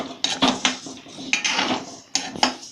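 A spoon scraping and clattering in a metal pan as moong dal is dry-roasted and stirred for Maharashtrian chakli bhajani, with bursts of sharp scraping separated by short pauses.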